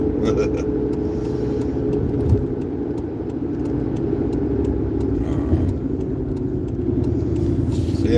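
Steady interior road noise and low engine rumble from a 2009 Hyundai Santa Fe being driven, a continuous even drone with brief bumps, while a person talks over it throughout.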